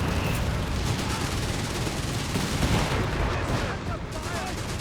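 Heavy gunfire and artillery booms from a Company of Heroes 3 battle, including a British 17 pounder anti-tank gun firing, form a dense continuous rumble of shots and explosions under a commentator's voice.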